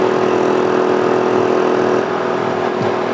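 A small 800-watt generator runs steadily with a loud, close engine drone. Partway through, an RV air conditioner's compressor shuts off, and the generator's hum drops to a slightly quieter, lighter note for the rest of the clip.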